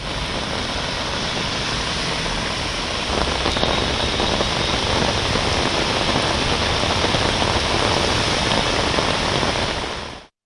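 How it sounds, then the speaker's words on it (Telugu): Heavy monsoon rain pours down in Hyderabad as a dense, loud, unbroken roar of water that cuts off abruptly at the end. "నైరుతి ఆగమనంతో హైదరాబాద్ వ్యాప్తంగా భారీ వర్షం కురిసింది"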